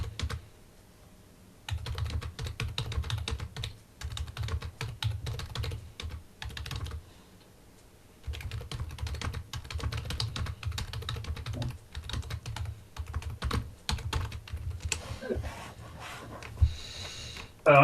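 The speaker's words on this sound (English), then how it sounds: "Someone's typing furiously in the background." Rapid keyboard typing clatters in bursts of quick keystrokes, pausing briefly before resuming, fairly close and moderately loud.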